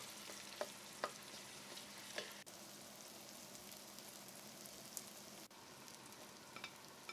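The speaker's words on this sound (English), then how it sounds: "add the chopped onions into the pot and fry it in the hot oil for a minute" Chopped onions fry in hot oil in a pot, a steady soft sizzle and crackle with occasional sharper pops, heard close but fairly quiet and without any talk.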